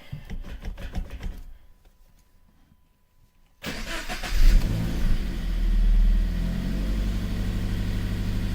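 A Toyota GT86-type car engine fitted with an HKS Premium Suction intake kit cranks and catches, briefly revs, then settles into a steady, loud idle close by after a few seconds of near silence.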